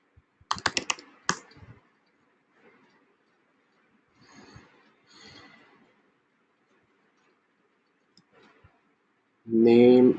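Code is typed on a computer keyboard in quick bursts of close clicks, with sparse quieter keystrokes scattered between, and a person talks over part of it.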